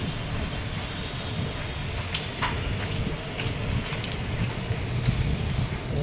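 Steady monsoon rain in Mumbai pours down with a dense patter, with a few sharper drops and taps rising above the continuous hiss.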